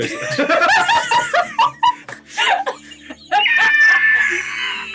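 A voice imitates shrieking pterodactyl calls, a series of squawks and screeches ending in a long, high, wavering cry.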